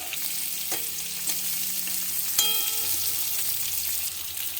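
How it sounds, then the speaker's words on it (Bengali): Potatoes hit hot oil already seasoned with asafoetida and chopped ginger, giving a steady close sizzle with a few sharp spits and a louder burst partway through, stirred in a pan while an Indian capsicum-potato fry is being cooked. "হিংও দিয়ে দিলাম। আদা কুচি দিয়ে দিলাম। আলুগুলো দিয়ে দিলাম।"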